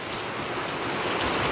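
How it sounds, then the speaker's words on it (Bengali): Steady rain pours down outdoors in a village setting, a dense continuous hiss of drops striking surfaces, close and fairly loud, with no voices. "এই দেখো বৃষ্টি"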